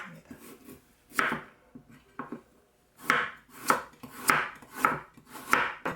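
Vegetables, onion and carrot among them, are chopped with a knife on a board in a run of sharp close knocks, a few sparse cuts first and then a quicker steady rhythm of about two strikes a second, with no voices.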